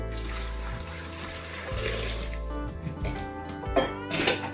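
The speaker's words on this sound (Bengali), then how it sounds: "দিয়ে দিচ্ছি পরিমাণ মতো জল" Water pours into a pressure cooker holding gathi kochu (taro) for a Bengali curry, a close, continuous splashing trickle with small clinks of the pot toward the end.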